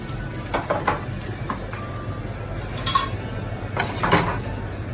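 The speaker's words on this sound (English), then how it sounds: "we're gonna put here the breadcrumbs" Breadcrumbs toasting in a pan that just held golden garlic, for Lagane di San Giuseppe: utensils clink and scrape against the pan in irregular knocks over a low, steady frying hiss, close up, with no talk.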